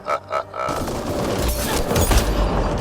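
Gunfire and explosive bursts from the video game Mass Effect Andromeda, a dense, loud barrage of shots and booms that keeps going steadily without a break.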